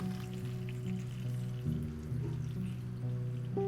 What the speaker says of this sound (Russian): Вливаю сливки